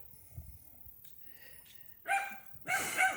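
A dog gives two loud, close barks about half a second apart, following a quiet stretch with faint background noise.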